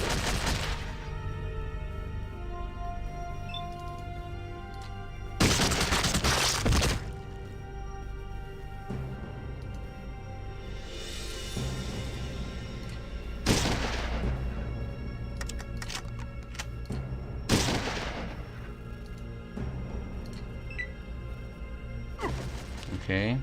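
Bursts of gunfire and explosions from the video game Fallout 2 erupt at intervals over steady game music, each burst loud and sharp before fading back.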